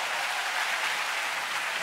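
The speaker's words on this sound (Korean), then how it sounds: "박수 한번 주세요" Studio audience applause, a dense, even burst of many hands clapping together, sustained and close with no talking over it.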